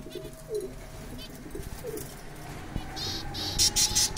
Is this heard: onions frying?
no